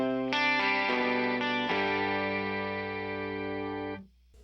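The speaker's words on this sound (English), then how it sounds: "Then you can add a second octave, slightly detuned. And you have an 18-string guitar." Electric guitar through an Electro-Harmonix POG octave pedal with an added, slightly detuned second octave gives a thick, shimmering 12- to 18-string chorus texture. A few strummed chords ring out, and the last one sustains until it cuts off abruptly near the end.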